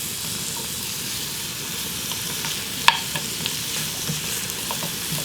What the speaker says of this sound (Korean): 들기름을 먼저 넣고 양파를 잠깐 볶다가